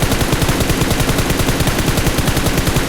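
Rapid automatic gunfire from a multiplayer shooter game plays loud and continuous, a steady stream of close, evenly spaced shots with no break.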